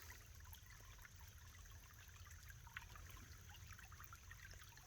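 A small creek trickles steadily, a faint continuous wash of flowing water with no voices.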